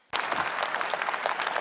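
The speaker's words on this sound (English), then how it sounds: "Please applaud if you are in agreement with the motion." Shareholders at a Nissan extraordinary shareholders meeting break into sudden applause, a dense, steady burst of many hands clapping that starts abruptly and continues without pause.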